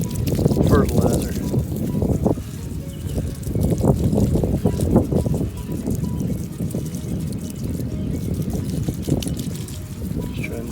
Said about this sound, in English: So I'm just going around watering in all of this fertilizer.